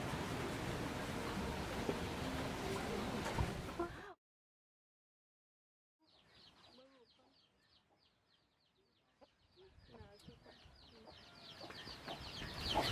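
Chickens clucking in a rural yard: after a burst of loud background noise and a brief silence, scattered close clucks and calls come through, growing busier toward the end.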